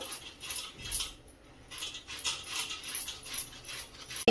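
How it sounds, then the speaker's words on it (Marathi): Two boiled potatoes are grated by hand, making a quiet run of rasping strokes in a loose, uneven rhythm, close up and with no talking. "अशा दोन बटाटे पण आपण किसून घेत आहोत"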